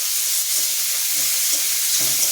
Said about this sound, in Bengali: একটু অল্প করে ফোড়ন দিলাম